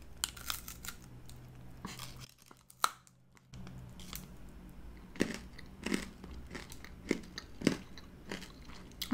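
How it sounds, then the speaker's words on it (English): Someone bites into a hard Polish snack close to the mic, giving several sharp crunches and brittle cracks at uneven intervals, with quiet handling and crinkling between them. "I'm sure you all heard that crunch."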